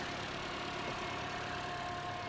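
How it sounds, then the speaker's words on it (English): A Toyota Corolla engine, just repaired after a defective fuel pump, idles steadily with a low, even hum and a faint whine, continuous and moderately quiet, with no voices. "I'm gonna turn off the engine."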